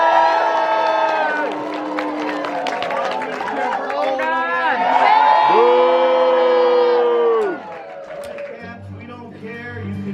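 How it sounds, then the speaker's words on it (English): Loud crowd at a lumberjack games log-cutting contest cheers, whoops and shouts continuously, with children's voices mixed in; the roar drops sharply near the end as quieter chatter takes over. "You can cheer, you can boo, just make some noise, get behind them, help them out."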